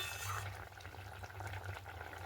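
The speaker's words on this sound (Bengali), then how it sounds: "জলটা ফুটে গেছে" A pot of water for boiling kohlrabi bubbles at a quiet, steady rolling boil, with a low continuous burble close by.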